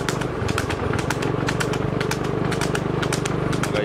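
A cold scooter engine that has not yet warmed up runs steadily and close by, with a rapid pulsing putter that holds an even level throughout.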